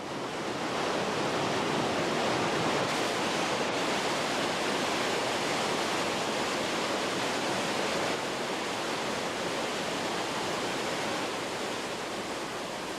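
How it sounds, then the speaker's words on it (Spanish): The Krimml Waterfalls in the Austrian Alps, about 480 metres tall in three drops, roar as a loud, steady, broadband rush of falling water that stays constant throughout, with no voices. "el río da lugar a cataratas consideradas como las más poderosas de Europa y las más espectaculares de los Alpes"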